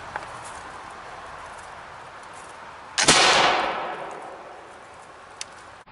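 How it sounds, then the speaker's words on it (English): A doglock musket fires a .69 caliber round ball outdoors: a single sharp, loud report midway through, followed by a decaying echo that rolls away, then quiet. "Let's see if I can, from ambush, pull up a quick shot and fire and hit him."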